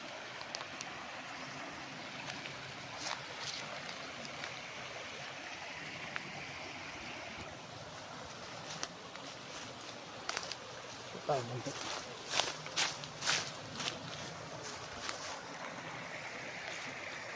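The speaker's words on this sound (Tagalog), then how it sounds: "Ayan, ilog. Ang agos niya pag ganito." Steady broadband rush of a river current flowing past a farm in Nagcarlan, Laguna, with occasional clicks and brief knocks rising over the constant wash.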